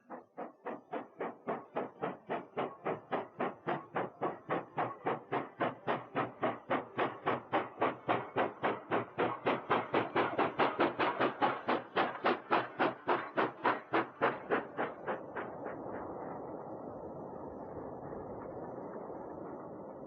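A steam locomotive hauling a freight train to a steel mill, with a banking locomotive at the rear, labours uphill with rhythmic, regular chuffs that grow louder and closer, then give way to a steady rushing hiss.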